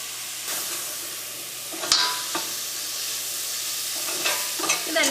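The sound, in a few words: stirring tomatoes and salt into frying okra masala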